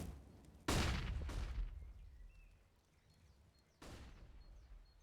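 AK rifle fire in CS:GO during a match on the Inferno map, with two separate loud bursts of gunfire, the first longer with a trailing echo and the second shorter, set against quiet ambience.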